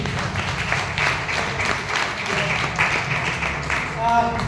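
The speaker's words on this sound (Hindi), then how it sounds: "एक बार अपने लिए जोरदार ताली हो जाए" Loud applause from an audience at a success-stories event, sustained dense clapping filling the whole stretch, with some voices mixed in beneath.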